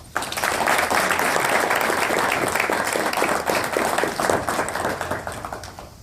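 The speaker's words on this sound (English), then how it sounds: "everyone, give a round of applause" A crowd at a press conference at the 2018 NSBE convention in Pittsburgh applauds steadily, a dense wash of clapping that swells quickly, holds for several seconds, then starts to taper off.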